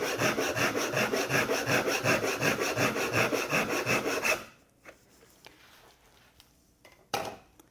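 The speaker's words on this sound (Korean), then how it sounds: "톱질하시면 됩니다. 당기는 톱질이죠." Steady rhythmic strokes of a pull saw cutting through wood held in a bench hook for about four seconds, close and loud, then quiet with a few light knocks.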